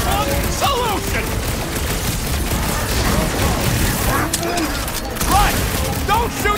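Blaster-style gunfire rattles in a Guardians of the Galaxy battle, bursts of shots layered under loud character voices and chaotic combat effects throughout.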